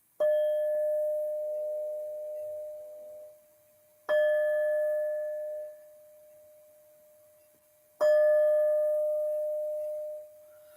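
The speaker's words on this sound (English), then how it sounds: "Let's ring the gong." Gong or bell-like chime struck three times at even intervals about four seconds apart, each strike bright and ringing, then sustaining and decaying before the next, heard alone in a quiet room.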